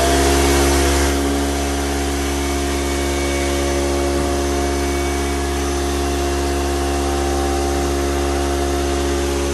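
Compressed air blasting through a brake caliper to push out an old brake piston during car restoration: a loud, steady hissing roar with a droning hum, easing slightly after the first second, with faint metallic knocks partway through.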